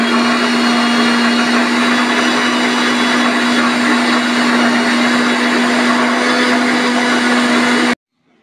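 A wet grinder or mixer runs steadily at full power, blending rice with soaked red lentils into a paste. The motor keeps one loud, even hum with a constant pitch for about eight seconds, then cuts off abruptly.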